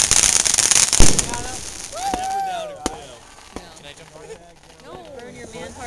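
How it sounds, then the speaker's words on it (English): Fireworks burst at an outdoor fireworks show, with sharp cracks and a loud crackling flurry early on and then scattered pops and whistles. People talk and shout throughout. "Now I want to get away from the fireworks."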